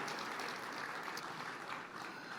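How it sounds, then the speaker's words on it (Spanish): A church congregation applauding in praise, a dense, steady wash of many hands clapping together throughout, fairly loud and sustained with no break. "Fuerte ese aplauso de alabanza al Señor."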